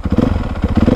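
A vintage Honda CR125 two-stroke motorcycle engine runs close by, a loud, choppy, pulsing idle with uneven rhythmic bursts.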